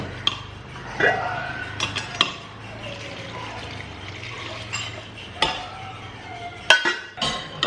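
Milk is stirred into cooked rice porridge in a pot, giving soft wet swishing and occasional spoon clinks against the vessel over a low background hum.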